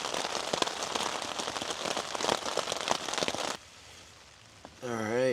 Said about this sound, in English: It's still raining, believe it or not.